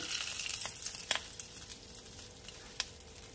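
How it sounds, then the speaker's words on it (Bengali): Hot tempering poured into a raw banana curry in a home kitchen, giving a soft, steady sizzle with a few sharp crackles and pops, close and fairly quiet. "এবারে আমি এই তরকারিতেই ফোড়নটা দিয়ে দেব"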